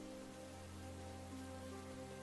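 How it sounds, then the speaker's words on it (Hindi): Heavy stormy rain in a cartoon scene, a steady dense wash of downpour running unbroken and fairly loud, with a low sustained tonal background underneath and no voices. "ये बारिश तो जैसे कहर बनकर टूटी है"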